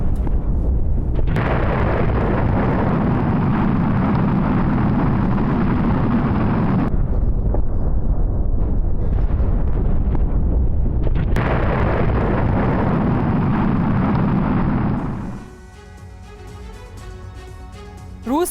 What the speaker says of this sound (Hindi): रूसी सेना के ठिकाने पर भीषण बमबारी हो रही है